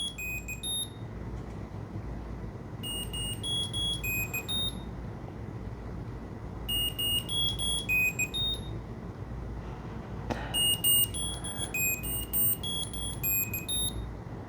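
A Momax Pintag tracker sends out repeated high electronic chirps in short bursts of rapid tones, with gaps between the bursts, over a steady low background hum in a room.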